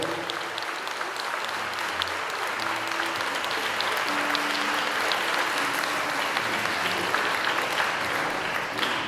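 Sustained, steady applause from a large crowd at a Mr. and Miss school pageant fills the space, dense clapping continuing without pause, with faint voices mixed underneath.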